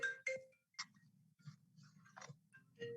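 A mobile phone ringtone plays a short, faint electronic melody of chirpy notes, heard alone during a conservation commission meeting.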